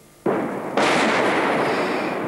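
A meteor explosion in the sky over New Zealand, caught on amateur footage, arrives as a sudden loud boom that swells into a second heavier blast and then a sustained roaring rumble, with no voices.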